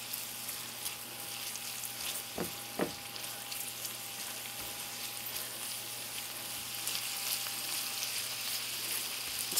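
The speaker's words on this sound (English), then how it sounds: "And now I'm going to add a quarter cup of frozen corn and let them continue to" Onions, celery and frozen corn sauté in a pan with a soft, steady sizzle that stays quiet throughout, broken by a couple of brief clicks early on and a small knock at the very end.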